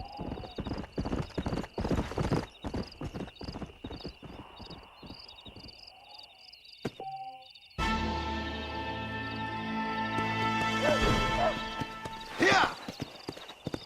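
Horse hooves clip-clop in steady rhythm in the Red Dead Redemption video game, loud and close. A brief break follows, then a tonal musical passage and ambient sound take over.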